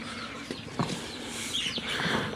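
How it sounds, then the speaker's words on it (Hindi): Hens on a farm give a few soft clucks and short calls, faint and fairly close, over a quiet outdoor background. "मेरे मुर्गियाँ भी आ गई हैं"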